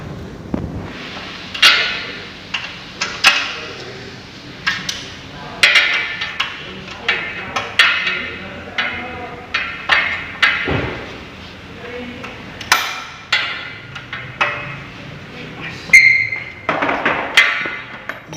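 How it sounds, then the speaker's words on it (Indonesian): A 19 mm socket wrench tightening the left tie rod bolt on a hydraulic rack-and-pinion power steering system, repeated metallic ratcheting clicks and knocks in uneven bursts, close in a quiet workshop. "mengencangkan baut pada tie rod bagian kiri dengan menggunakan kunci shock 19"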